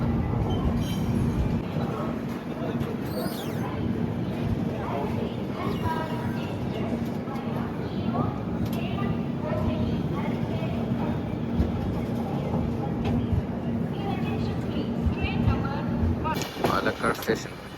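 Kerala Express, hauled by a WAP-4 electric locomotive, rumbles along with steady wheel noise and a constant low hum heard from inside the train, plus a brief squeal near the end.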